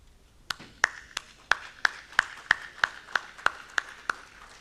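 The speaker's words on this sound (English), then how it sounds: "Ladies and gentlemen, please give a big, big, big round of applause." Sparse, evenly spaced claps ring out one after another at an inaugural ceremony of a conference, about a dozen sharp, fairly close hits with slight echo and no talking.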